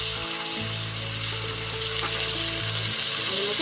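Ginger-garlic paste, chilli powder, coriander and cumin powder with ground tomato fry in oil for a Bengali boyal fish curry, a steady close sizzle with a low hum and occasional light stirring.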